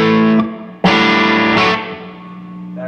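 Distorted electric guitar chords ring out loud through a Tone King Metropolitan amp with lead output raised, a few strummed hits sustaining and fading, with no talking.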